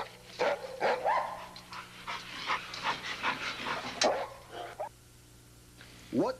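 A Bouvier des Flandres dog pants in quick ragged breaths close by, with a few short yips or barks mixed in, before falling briefly quiet and then giving one more sharp sound.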